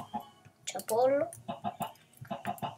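Chickens in the Minecraft video game cluck in short repeated calls over a low, busy game background, with a voice talking through it.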